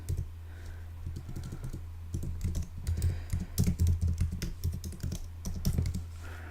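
Rapid, uneven clicking of computer keys as someone types a short webinar description, continuing steadily for several seconds against a low constant hum.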